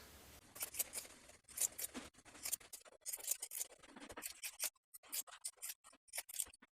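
Scissors trimming the sewn waistband seam allowance of a pair of jeans, quiet close snips in quick irregular bursts with short pauses between cuts.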